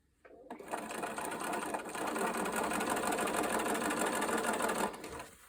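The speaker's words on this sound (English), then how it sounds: "stitch it down folded, like you pressed it" A sewing machine runs in one steady burst of about four seconds, stitching down a folded edge of jeans fabric, with the fast mechanical whir close and clear and no voice over it.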